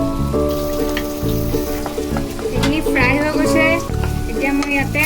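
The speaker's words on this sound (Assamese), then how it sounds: "এইখিনি ফ্ৰাই হৈ গৈছে" Ingredients for Bengali-style prawn malai curry fry in a pan, a continuous close sizzle with scraping stirs, partly masked by a sustained tonal background sound and a voice speaking over it.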